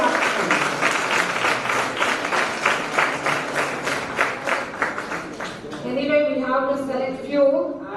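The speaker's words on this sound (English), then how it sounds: "give them a big round of applause to all the participants." A room full of people gives a big round of applause to the participants of a women's college youth parliament event. The clapping is dense and steady, then it gives way to voices talking near the end.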